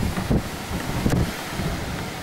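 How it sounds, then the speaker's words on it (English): Outdoor wind gusting against the microphone, with a low rumbling buffet, two stronger gusts and a steady blowing hiss between them, close and fairly loud. "Can we hear the wind"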